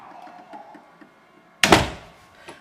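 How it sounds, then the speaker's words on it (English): A church door swings shut under a door closer set to light spring tension, ending in a single sharp latching thunk with a short decay after a quiet lead-in. "But as you can see, the closer doesn't cover much distance at the end of the closing cycle. But it always latches."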